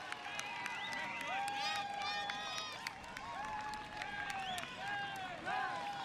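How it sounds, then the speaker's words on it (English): A stadium crowd at a 2019 U.S. Open Club Championships ultimate frisbee match gives a sustained cheer with whistles and shouts, steady and somewhat distant, with no nearby talking. "Almost a sarcastic cheer from the crowd."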